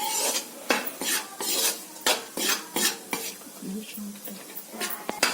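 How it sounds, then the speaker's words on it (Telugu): Maida flour and dry fruits being stirred and roasted in a pan for malai laddu, a spoon scraping the pan in repeated close strokes with a faint sizzle, roughly ten scrapes at a steady rhythm. "మనం వేసిన డ్రై ఫ్రూట్స్ మైదా పిండి మొత్తం చక్కగా వేగిపోయాయి"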